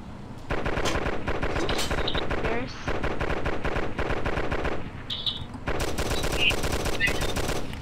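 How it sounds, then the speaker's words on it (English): Rapid bursts of machine gun fire with tracer rounds in a military video game set on the Lingor map, continuous and loud with a short lull near the middle before the firing resumes, under game music. "Is that tracer fire on"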